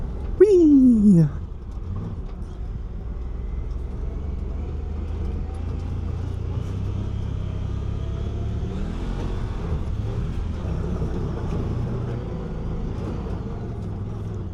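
A Honda Talon 1000R side-by-side with a Jackson Racing turbo runs at speed over rough, rocky ground, its steady engine drone continuous and close throughout, with a brief whooping voice and rising whistle near the start.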